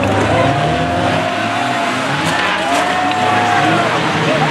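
Banger cars racing in a demolition derby at an Arlington oval track, with loud revving engines and squealing tires amid a crowd murmur and a commentator's voice over the din.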